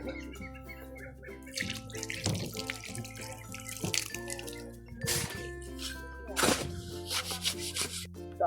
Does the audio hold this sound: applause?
no